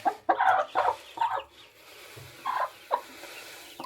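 Hens and chicks in a backyard brooding setup give several short bursts of clucking and gobble-like calls, close to the microphone, with brief quiet gaps between them.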